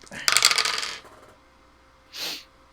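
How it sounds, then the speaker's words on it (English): Dice rolled during a tabletop role-playing game, a quick clattering burst of small hard objects tumbling and settling, followed by a short soft breathy sound after a pause. "I heard like 2 dice. He rolled 4."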